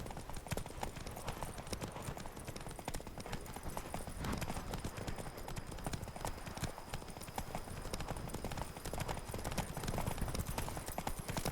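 Roach the horse's hooves clip-clop steadily in The Witcher 3, a continuous rhythmic trotting beat heard close and alone over a dense background of game ambience.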